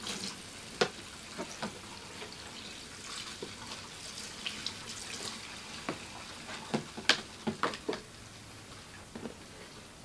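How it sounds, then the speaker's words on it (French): Water running steadily from a tap while shampoo is rinsed out of hair, a continuous close hiss broken by small splashes and irregular drips. "Pendant le rinçage, on aère bien la coiffure pour bien faire pénétrer l'eau et pouvoir rincer tout le shampoing"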